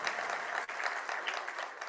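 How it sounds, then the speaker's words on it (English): Steady crowd clapping fills a hall at a judicial conference certificate presentation, a dense, uniform round of applause with one brief dip midway. "Please have a great round of applause."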